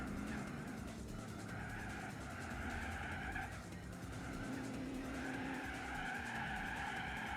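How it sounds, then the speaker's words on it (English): Car tires skidding and squealing during a Seattle circuit race in Gran Turismo 4, with a continuous engine drone under a sustained sliding screech that wavers in pitch and holds steady in loudness throughout. "This slide here was almost optimal."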